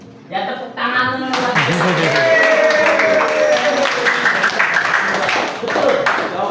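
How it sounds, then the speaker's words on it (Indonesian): A classroom of students claps together in a sustained round of applause during a lesson, with children's voices and chatter mixed in throughout. "Ya tepuk tangan dulu."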